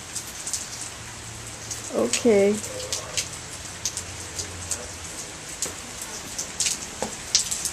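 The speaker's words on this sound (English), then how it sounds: "Just never-ending, non-stop rain today," Heavy rain pours down steadily on a dark night, a dense close hiss of drops with scattered louder patters, and a person briefly speaks over it.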